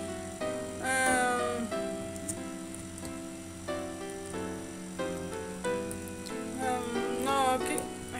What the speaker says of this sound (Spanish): Miren, acá hay otro gato.